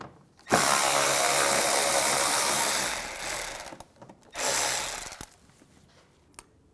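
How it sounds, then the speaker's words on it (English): A ratchet with an 8mm socket backs a screw out on a 2009-2013 BMW 328i xDrive headlight washer pump, a loud continuous close-up whirring spin that stops, then resumes briefly, followed by faint clicks. "I'm going to remove this screw using an 8mm socket."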